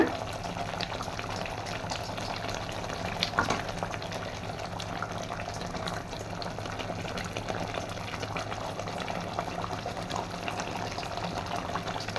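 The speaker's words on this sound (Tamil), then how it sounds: "இப்போ நான் திருப்பியும் அகைன் ஒரு 1/4 கரண்டி அளவுக்கு எண்ணெய் ஊற்றுறேன் அதுக்கு மேலே" Oil is poured over an eggplant and drumstick curry cooking in a pan, and it gives off a steady bubbling, sizzling simmer at moderate volume that holds evenly throughout, with no speech.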